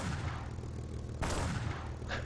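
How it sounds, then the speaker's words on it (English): A World War II aircraft fires its 40 mm guns while sitting on a runway in a flight-combat video game: a steady rumbling roar and a second harsh burst, with a fainter trailing report near the end. "It pushes the plane backwards on the runway by firing the 40 mils."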